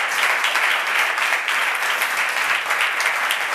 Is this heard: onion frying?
no